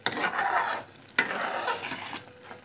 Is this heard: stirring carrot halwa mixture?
yes